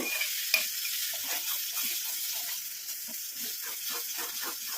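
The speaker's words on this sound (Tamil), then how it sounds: "லோ ஃப்ளேம்லேயே வச்சு நம்ம இதை கிண்டி விட்டுக்கிட்டே இருக்கணும்" Gooseberry pulp simmers in oil over a low flame while being stirred, a soft continuous sizzle with gentle rhythmic scraping strokes, quiet and close, with no voices.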